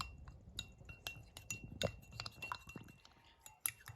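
A spoon stirs strawberry coulis with cornstarch in a bowl, giving soft scraping and intermittent light clinks against the side, close and fairly quiet.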